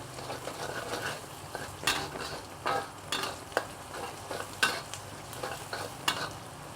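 Aromatics seasoned with salt fry in a pan for pineapple curry prawns, a soft sizzle punctuated by repeated scraping strokes of a spatula stirring at an uneven, steady pace.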